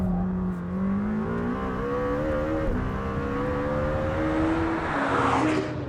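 A Lamborghini Temerario prototype accelerates hard, its engine revving in a rising, whining note through gear changes, heard loud and steady from inside the car.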